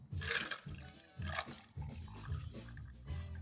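Mojito cocktail pours from a pitcher over ice cubes in a glass, a close splashing liquid rush in several bursts with brief pauses between them.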